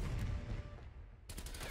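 Gunfire in the Call of Duty video game, heard as a faint, muffled stretch of rumbling shots that ends in a sharper cluster of rapid bursts.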